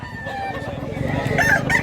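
A white rooster, a bullstag gamecock, crows loudly and close by in one long drawn-out call, with a faint voice in the background.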